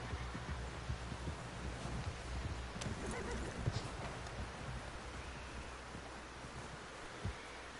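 A horse in Red Dead Redemption 2 gives a neigh over clip-clopping hooves, with a wash of surf-like ambience behind and a couple of sharper thumps, fairly quiet overall.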